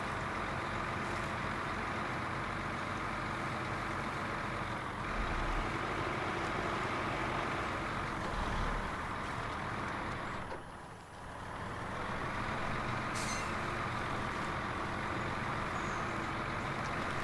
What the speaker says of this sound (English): Yeah, this truck needs more power.